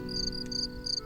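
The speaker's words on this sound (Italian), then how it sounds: "verso sera i grilli" Crickets chirp in an evening meadow in the Magredi grasslands, with repeated high, bright trills in short bursts over a steady low background hum.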